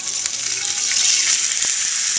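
Food sizzles loudly and steadily on a big, hot grill, a dense hissing crackle close by that holds without pause.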